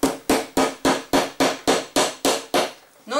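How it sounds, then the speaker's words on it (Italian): A hammer drives a pushpin into watercolor paper with nine sharp, evenly spaced taps in a steady rhythm, close and clear with no talking. "quindi con un martello fissiamola"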